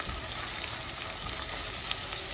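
Onions fry gently in a pan for beef shami kabab, producing a faint, steady, even sizzle with a soft crackle running continuously from start to finish and no voices.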